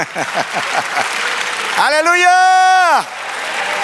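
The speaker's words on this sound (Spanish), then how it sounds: "Y un aplauso al Señor." Church congregation applauding together in a steady, dense burst, followed by a single voice loudly shouting a praise word over the fading claps.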